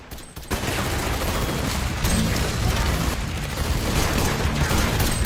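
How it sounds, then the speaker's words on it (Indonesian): A gunfire barrage of dense, continuous rapid shots, loud and close, runs almost the whole clip after a brief quieter start, with no talk. "Mereka diberondong tembakan."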